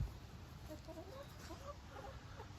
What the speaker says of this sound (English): These are some of the friendliest chickens I have ever known.